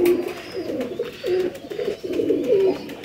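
A Sialkoti pigeon coos in a repeated series of soft, low, throaty calls, close and clear over faint background noise.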